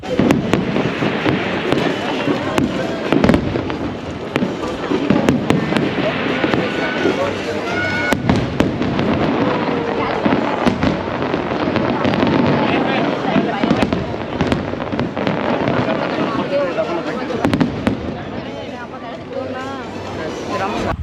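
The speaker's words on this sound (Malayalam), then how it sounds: "നമ്മളിങ്ങോട്ട് പുറത്തിറങ്ങിയപ്പോൾ കണ്ട കാഴ്ച അതിമനോഹരമായിരുന്നു മറ്റൊന്നുമല്ല ഫയർ വർക്ക്സ്" Fireworks going off outdoors above a busy multicultural street, with continuous crackling bursts and pops throughout while a crowd murmurs and people talk nearby.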